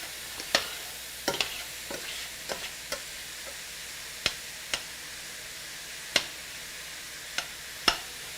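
Dirty rice with sliced mushrooms being stirred in a frying pan: a soft, steady sizzle with scattered sharp clicks and scrapes of the utensil against the pan, close and fairly quiet.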